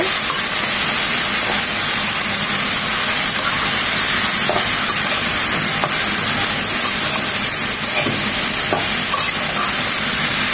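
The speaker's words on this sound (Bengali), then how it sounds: "এখন সব কিছু নেড়ে চেড়ে মিশিয়ে নেব।" Raw papaya with slit green chillies and salt is stirred in a hot pan, giving a loud, constant hiss and sizzle with faint spatula scrapes and soft clicks throughout.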